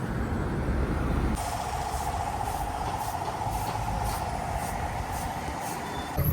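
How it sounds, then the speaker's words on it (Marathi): Busy evening street traffic in downtown Amman, Jordan, during Ramadan: a steady rumble of engines from trucks, buses and cars nearby, with a sustained hiss like an air brake running through the middle. "फुल ट्रॅफिक झालं इथे खूप ट्रॅफिक झालं"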